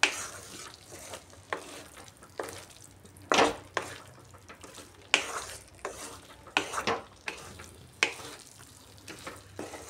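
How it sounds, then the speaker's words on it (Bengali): Chicken for a dry chicken dish is stirred in a hot pan with a spatula, giving a soft steady sizzle broken by repeated scraping and clinking strokes against the metal. "এটা দিয়ে চিকেনটাকে একটু ভালো করে মিশিয়ে নিচ্ছি"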